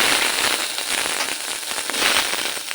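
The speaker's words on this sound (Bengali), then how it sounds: "ঘিয়ের মধ্যে চার পাঁচটা গোটা জিরে দিয়েছি এবার দিয়ে দেব গাজর আর আলু" Carrot and potato pieces dropped into hot ghee with whole cumin seeds, giving a dense, close, steady crackling sizzle that continues without talk.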